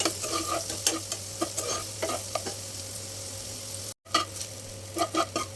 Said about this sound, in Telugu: ఆయిల్ వేసుకుని వేపుకుందాం ఎర్రగా వేపుకుందామండి